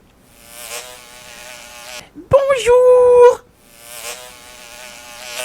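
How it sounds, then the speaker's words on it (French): A big fly buzzes loudly for about a second in a high, wavering whine, set between stretches of a storyteller's narration in French. "et aperçut une grosse mouche"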